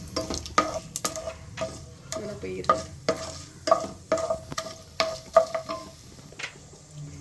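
Chana dal and cashews fry in oil for lemon rice, sizzling under steady metal-spoon stirring that scrapes and clinks the pan in an irregular rhythm, close up and without talk.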